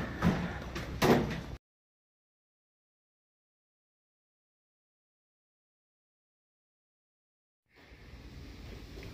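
A Norton ADAEZ 5800 automatic door operator moves a door with a brief mechanical clatter, then a long stretch of silence before a soft, steady hum resumes.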